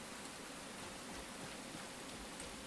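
Steady rainfall in the survival game Enshrouded, a faint, even hiss of falling rain with no talking over it.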